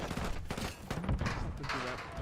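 Video game gunfire crackles in bursts amid a tactical shooter firefight, fairly faint and mixed under a character's shouted voice calling out.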